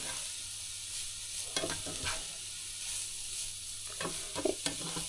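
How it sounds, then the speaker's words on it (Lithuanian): Onions and carrots fry in a pan with a steady, close sizzle, broken by a few scraping stirs of a utensil toward the end; no one speaks. "Kai svogūnai pakepė, morkytės irgi."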